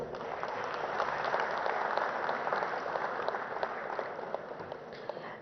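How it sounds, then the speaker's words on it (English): Audience at the FTCCI awards ceremony giving a sustained round of applause, dense steady clapping from a large crowd with no speech over it. "One round of applause, please."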